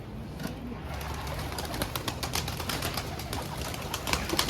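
Mardin pigeons released outdoors, a busy fluttering of wings and soft bird sounds running steadily throughout at moderate distance.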